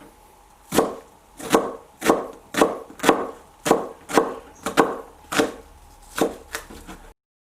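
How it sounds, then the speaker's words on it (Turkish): Knife chopping vegetables into medium cubes on a board, about a dozen sharp, evenly spaced chops in a steady rhythm, close and distinct with no talking. "şimdi bütün sebzeleri şöyle orta büyüklükte küp küp doğruyorum"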